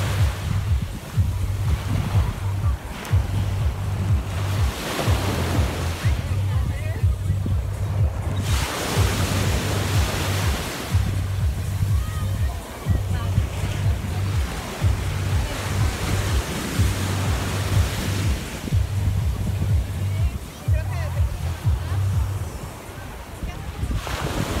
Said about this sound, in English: you can sit out on the porch and listen to them waves crashing